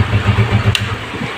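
A motorcycle engine idles close and loud after a CDI unit and petrol adjustment, with a steady low pulsing rhythm and a short click midway.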